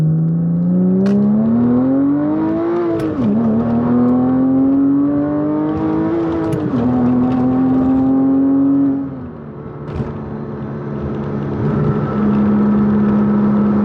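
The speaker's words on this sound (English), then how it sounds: "I can give y'all some interior exhaust notes" A Porsche Cayman S with its muffler deleted drones steadily from inside the cabin, rising and falling with throttle changes, then settling into a lower, even cruise note.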